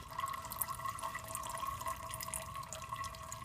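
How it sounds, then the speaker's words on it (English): A LifeStraw Mission water purifier leaks slightly at its red valve, producing faint, irregular drips and trickling water close by, with no voices. "the red water valve leaks by a little bit"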